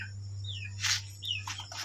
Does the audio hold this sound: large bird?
yes